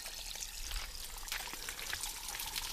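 Water runs steadily from the head of an outdoor eco shower in the Galapagos, a close, continuous splashing spray with no voices.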